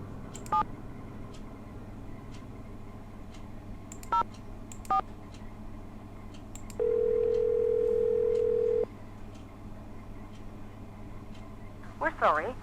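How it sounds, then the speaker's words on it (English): Telephone dialing in the video game Nancy Drew: The Haunted Carousel: a few short keypad tones, then a steady two-second tone, over a low background hum, with a voice speaking. "let's try calling some phone numbers"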